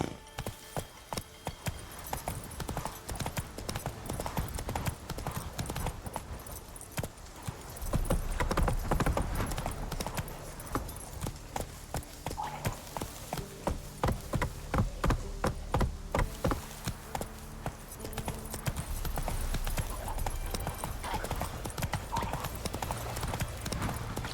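Roach, the horse in The Witcher 3, trotting with steady rhythmic hoof clip-clops at close range for the whole stretch, loud and continuous, with a brief rougher rumble partway through.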